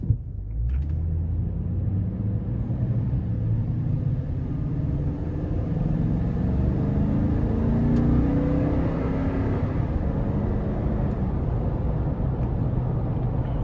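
A 2021 Toyota Sequoia Limited 5.7 V8 rumbles low and steady from inside the cabin on a test drive, its engine note rising slightly as it pulls, with continuous road noise and no talking.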